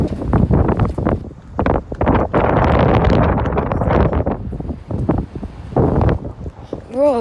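Strong gusts of wind buffet the microphone outdoors with loud, uneven rushing bursts that rise and fall, and a voice speaks briefly at the end.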